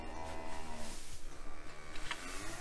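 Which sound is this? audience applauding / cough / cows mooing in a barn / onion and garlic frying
cows mooing in a barn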